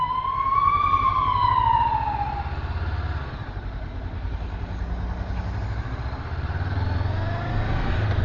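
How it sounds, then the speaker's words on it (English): An ambulance siren wails past on a city street, its rising-and-falling tone sweeping by and fading, heard from a Honda CB500X motorcycle over steady engine and wind rumble. "Let me get out of the way of this ambulance."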